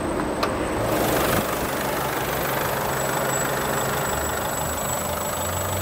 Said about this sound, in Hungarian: hallgassuk meg a motorját